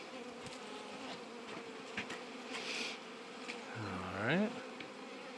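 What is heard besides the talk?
honey bees buzzing around an open hive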